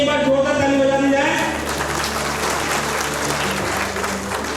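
A seminar audience bursts into loud, dense applause that begins at once and carries on steadily, with a speaker's voice heard briefly at the start.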